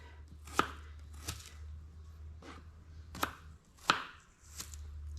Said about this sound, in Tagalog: Ayan po at iiwain na po natin yung sibuyas.